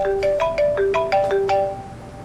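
A phone ringtone plays a bright repeating melodic pattern of short electronic tones, loud and close, alone, fading slightly at the end, as a work call comes in.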